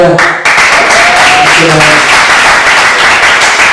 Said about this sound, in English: Big round of applause to We've